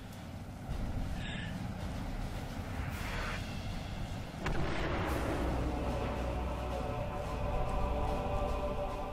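An energy converter explodes in the video game Marvel: Ultimate Alliance, a booming blast followed by a sustained rumbling roar and layered game effects.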